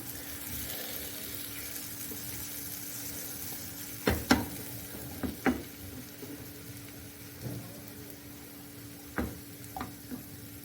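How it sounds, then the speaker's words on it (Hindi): Boiled, mashed potatoes being mixed with spices in a pan while making chicken kachori, with soft scraping and a few sharp spoon taps against the pan over a steady low hiss. "मैंने इन पोटैटो को अच्छे से इसके साथ मसाले के साथ मिक्स कर दिया"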